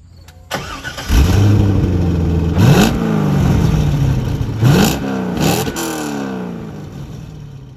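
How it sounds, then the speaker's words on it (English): A 1999 Chevrolet Corvette C5 engine cranks and fires up, then settles into a deep idle broken by several sharp throttle blips through the exhaust, loud and close with no talking. "Now I'm going to start this vehicle up so you can hear the exhaust"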